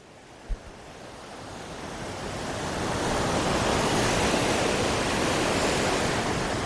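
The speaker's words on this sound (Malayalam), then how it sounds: "നാല് സൈഡിൽ കൂടെയും വെള്ളം ഒഴുകി വരുന്ന ആ ചേലൊന്ന് കണ്ടു നോക്കിയേ" Water rushing in from several sides at a riverside bathing spot, a steady broad roar of flowing water that swells and stays loud throughout, heard up close with no voices.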